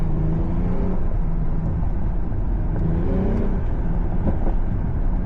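Mercedes GLE 53 AMG engine pulling hard in third gear on a slippery road at night, a loud steady drone with rising whine and harmonics as it accelerates, heard from inside the cabin.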